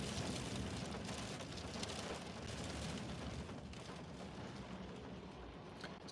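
Heavy rain and rough wind during Storm Franklin in Norfolk give a dense, loud, steady roar of rain hammering surfaces with gusty rumble underneath, sustained throughout.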